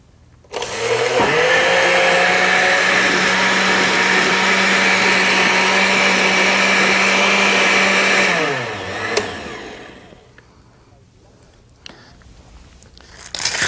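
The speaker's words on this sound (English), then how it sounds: "And let's blend it all together." A blender whirs loudly through rose lassi made of water, sugar and rose water, a steady roaring drone for about eight seconds that winds down as the motor stops, followed by quiet clinks.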